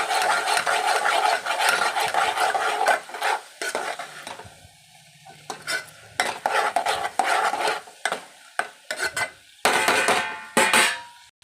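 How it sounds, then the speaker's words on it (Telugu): Turmeric stirred into a Telangana-style egg curry (gudla pulusu), a loud spoon scraping and clattering around a pot in repeated strokes over a soft sizzle, with brief pauses between bursts. "దీంట్లోనే కొద్దిగా పసుపు వేసుకోవాలి. కలుపుకోవాలి."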